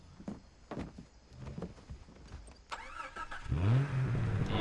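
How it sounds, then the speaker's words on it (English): Car in the video game Far Cry 3 starting up and driving off, a rising engine note building over the final second and a half after scattered footsteps and clicks, fairly loud with no talk. "Let's go ahead, jump in this car here."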